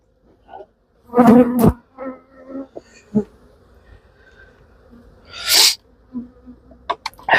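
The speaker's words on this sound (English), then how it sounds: "I'm getting battered by bees." Honey bees buzz loudly around beehive frames during a hive inspection, in close, irregular bursts that swell and fade as insects fly past.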